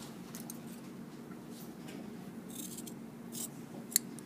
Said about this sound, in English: The second option is to just cut the edge on a thick fabric.